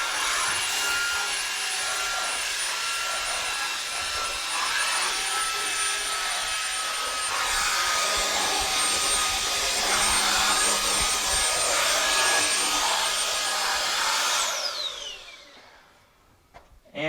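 A Roidmi X20 cordless stick vacuum runs at a steady high whine while sucking up breakfast cereal and animal hair from stairs, with occasional rattling pickups, then winds down and switches off near the end.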